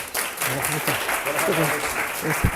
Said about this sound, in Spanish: Un aplauso para el bueno de Ángel.